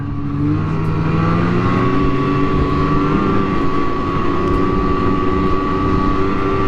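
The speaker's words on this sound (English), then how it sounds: "going fast on a snowmobile, like 40 on a snowmobile can feel fast" A snowmobile cruises steadily across snow at moderate speed, its engine giving a continuous loud droning hum with a steady pitch and no pauses, heard close up throughout.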